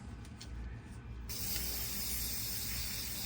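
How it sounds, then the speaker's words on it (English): A short aerosol spray onto a Yamaha YZ250X air filter bursts on and holds as a steady close hiss after a brief quiet moment of faint handling sounds. "So let's just spray my filter now."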